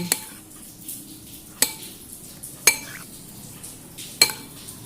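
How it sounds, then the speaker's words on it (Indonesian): Spoon stirring a pot of steamed horn plantain, with four sharp metallic clinks spaced about a second apart over a soft, quiet background of gentle scraping. "Saya aduk dulu"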